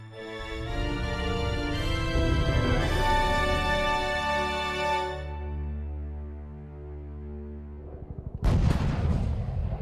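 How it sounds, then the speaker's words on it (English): Gunfire in a radio drama: a heavy, booming sustained roar of shots that swells and then fades, followed near the end by a sharp, loud, rapid burst. "Gunfire."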